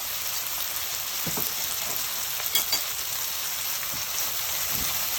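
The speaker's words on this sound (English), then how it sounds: "I will just throw in the egg." An egg is dropped into a hot pan for a Cantonese tomato and egg stir fry and sizzles loudly, a steady close crackle of frying oil with a few small spatters and stirring clicks.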